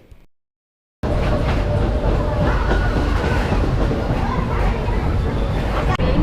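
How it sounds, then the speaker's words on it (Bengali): A special passenger train on the Sheoraphuli to Tarakeswar line during the Shravani Mela. After a second of near silence, a loud, constant rumble of carriages rolling on rails begins, with a sharp click near the end. "এটা একটা স্পেশাল ট্রেন"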